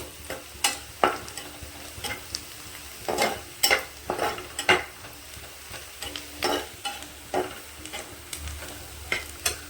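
Onions browning in a pan with a low continuous sizzle and repeated irregular clacks of a spatula stirring, close up, no voices.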